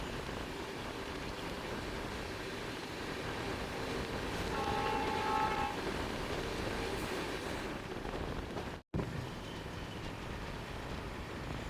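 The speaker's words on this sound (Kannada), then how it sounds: "ಲೆಜೆಂಡರಿ ರಾಣಿ ಚೆನ್ನಮ್ಮ ಎಕ್ಸ್ಪ್ರೆಸ್ಸು ಜಿಂಗ್ ಆಗ್ತಿದೆ. ವ್ಯಾಪ್ 7 ಲೋಕೋ." The Rani Chennamma Express hauled by a WAP-7 electric locomotive rolls past at speed near Yesvantpur Junction, a steady rumbling rush of coaches with a brief horn tone midway, ending in a sudden cut.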